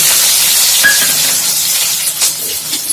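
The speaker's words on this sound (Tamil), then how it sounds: "வெங்காயம் வதங்கட்டும்." Onions sizzling and sautéing in a pan with fennel, cinnamon, cloves, cumin and curry leaves for a plantain gravy: a loud, steady, close frying hiss with a few faint stirring scrapes.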